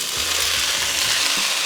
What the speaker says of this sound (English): Our onions have been cooking probably for about 4, maybe 5 minutes.